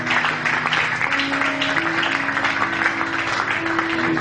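A church congregation claps together, a steady dense patter of many hands at moderate loudness, with a faint sustained tone beneath and no clear talk.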